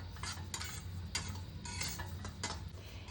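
Sesame seeds dry-roasting in a wok, stirred in a quiet series of scraping, rustling strokes with a faint sizzle beneath, several sharp scrapes close by, no voices.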